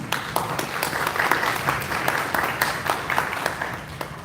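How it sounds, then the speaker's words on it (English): Scattered applause from an audience at a women's leadership summit, a moderate patter of individual claps with a few sharper hand strikes, fairly even across the moment. "So let's give her a round of applause."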